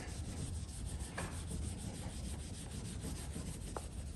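Hand polishing of the metal on a 75-year-old Van Dorn drill being restored, a steady close rubbing with a soft, even texture and a couple of faint knocks.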